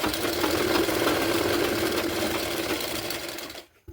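A sewing machine runs steadily, stitching the tuck strips of a four-tuck blouse, its close, continuous motor whir holding an even level for about three and a half seconds before stopping abruptly.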